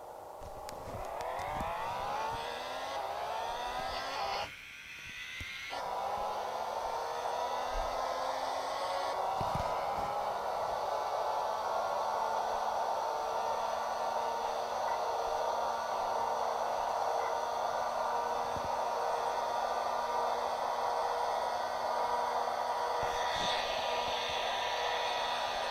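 A car accelerates hard along an airport runway toward its top speed, the engine droning loudly and steadily as pitch climbs through gear changes, with a brief dip before the revs settle into a sustained high whine.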